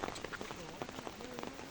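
Light rain falls outdoors at a riverside fishing spot, a faint, steady patter of scattered drops with soft clicks and a few quieter sounds mixed in.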